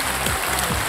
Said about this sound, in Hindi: ताली बजा सबकी